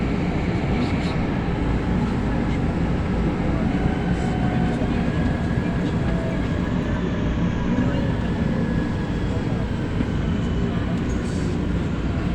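A commuter train arrives at Cubao Station, a steady rumbling roar of rolling wheels and rail noise filling the whole span at moderate level, with faint station background noise mixed in.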